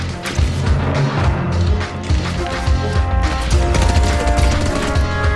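Rapid gunfire from a mobile shooter game on Android, a dense stream of loud overlapping shots and impacts running continuously without pause.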